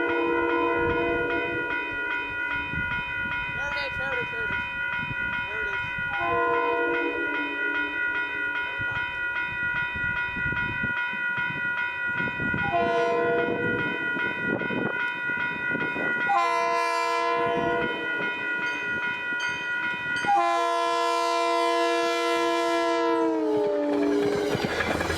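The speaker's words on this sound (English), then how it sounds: "MNCR 8728, which flies by headed south with Metro North 205 trailing" Metro North MNCR 8728 passes headed south through Manitou, New York, sounding repeated long, loud multi-tone horn blasts over the rumble of the moving train, with no talk.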